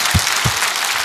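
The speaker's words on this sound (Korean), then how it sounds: "박수 한번 크게." A lecture audience breaks into applause, a dense, steady wash of clapping filling the brief moment, with a couple of low thumps near the start.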